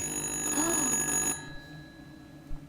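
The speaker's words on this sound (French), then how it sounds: "C'est le téléphone qui sonne." An old telephone rings in the horror game Little Hope, a loud electric bell trill that cuts off abruptly after about a second and a half, leaving a quiet room with a faint knock.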